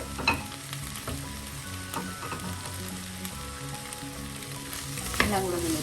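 Chopped okra frying with softened onions in a pan for a Kerala vendakkai upperi, a steady close sizzle with occasional stirring scrapes and clinks, no voices.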